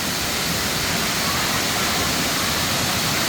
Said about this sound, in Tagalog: Kambal Busay Falls.